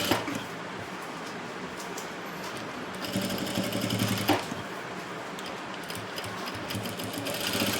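Sewing machine running steadily while stitching hooks onto the back of a blouse, a continuous close rattling hum that grows a little louder and busier midway, with no speech.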